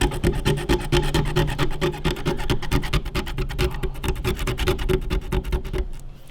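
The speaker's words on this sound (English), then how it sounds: "Plastic spacer, scraping it out." A plastic tile spacer scrapes grout out of a wet grout board, a steady, loud, close rasping with quick repeated strokes that runs nearly unbroken for about six seconds.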